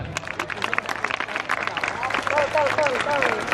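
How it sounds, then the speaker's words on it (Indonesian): Students in a school classroom clapping, a lively burst of scattered hand claps mixed with crowd chatter and children's voices talking over it. "Tepuk tangan."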